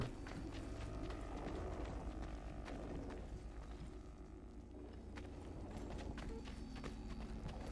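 Horse hooves clip-clop at a steady trot in Assassin's Creed 3 Remastered, a rhythmic run of hoof strikes over a low rumble with faint creaking of tack, continuous across the whole stretch.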